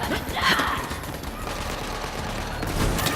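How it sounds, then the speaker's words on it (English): Gunfire from a Hyperion shotgun in the video game Borderlands 3, dense continuous blasts and game effects filling the mix throughout the short stretch. "Now that's a Hyperion shotgun."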